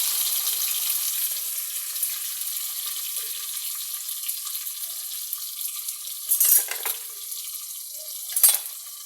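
Tomatoes and masala fry in a pan with a soft, even hiss of sizzling oil, joined twice by short bursts of louder spattering and stirring near the end.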